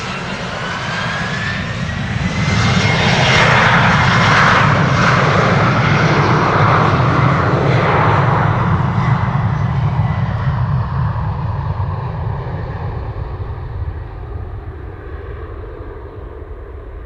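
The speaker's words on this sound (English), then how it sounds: "Over here, German Airways, Embraer 190. Turning and burning." Loud, close roar of an Embraer 190 airliner's jet engines on a departure run at Amsterdam Schiphol Airport, building steadily over several seconds and then slowly tapering as the aircraft moves away.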